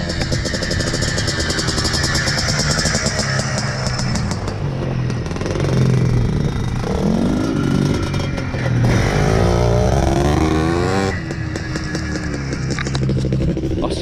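Yamaha Blaster 200cc quad engine running loud and close, revving steadily with rising and falling pitch as it shifts gears, the note dropping and climbing again through a gear change near the end.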